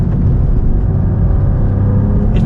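A 2024 Cadillac CT4-V Blackwing Arrival Edition on the GM Alpha chassis runs on a race track, its engine a steady, close, continuous drone with no voices over it.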